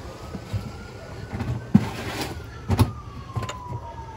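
A fire engine siren wails in the distance, a faint sweeping tone rising and falling over passing traffic noise and a few thumps and rattles nearby.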